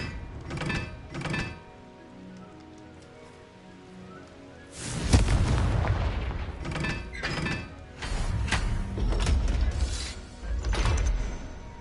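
Spells are cast in Hogwarts Legacy, and a Confringo explosion spell sets off a loud, booming burst with crackling debris that rumbles on for several seconds, preceded by a few softer thuds.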